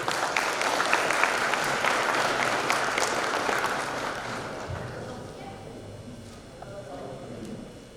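Sustained audience applause at an event welcoming a business consultant and motivational speaker, dense clapping that holds steady and then gradually thins out.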